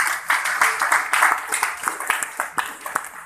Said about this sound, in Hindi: अपने लिए एक बार जोरदार तालियां बजाइए